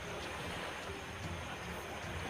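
Steady, broadband rushing water of a rain-swollen river roars continuously and fairly loudly, with no voices present.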